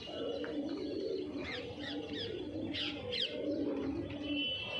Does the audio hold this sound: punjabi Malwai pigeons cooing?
yes